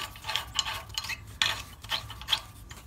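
Faint mechanical clicks and scrapes come from a wrench tightening a cultivator hitch on a 140 tractor, heard as short irregular ratcheting bursts with no talking.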